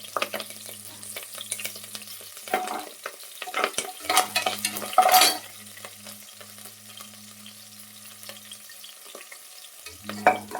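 Curry leaves sizzle in hot oil alongside green chillies in a frying pan while making upma, with a spoon scraping and stirring in intermittent bursts over a steady low hum, close and fairly quiet.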